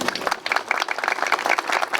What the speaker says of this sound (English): If anybody deserves an applause, it would be her